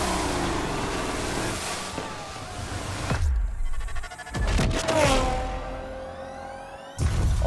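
A Porsche 911 engine revs in sharp bursts, rising and falling sweeps and a throttle blip near the end, loud and close with no talk.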